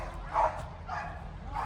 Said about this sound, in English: it's dogs galore over here